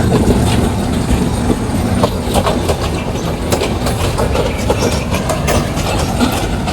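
A train from Dhaka rolls into platform two at Mymensingh railway junction in Bangladesh, a loud, close, continuous rumble with rhythmic clickety-clack of wheels over the rails throughout.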